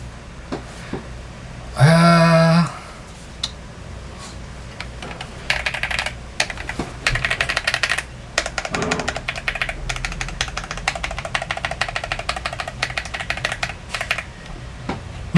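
Keys clack on a Royal Kludge RK M20 mechanical keypad in quick, uneven bursts of typing, close and crisp, after a brief loud tone near the start.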